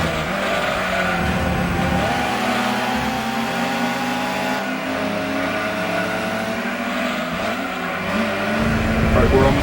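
Race car engines in Gran Turismo 2 roar steadily through a race against powerful opponents, including a TVR, with the engine pitch rising and shifting as the cars accelerate.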